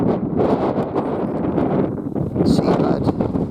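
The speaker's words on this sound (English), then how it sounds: "sorry about the wind" Strong wind buffeting an outdoor microphone near a cavern, a constant loud low rumble with gusting surges and rustle, no clear speech.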